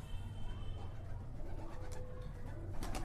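Soft pigeon cooing sits under a steady low background rumble, with a few brief brighter sounds near the end.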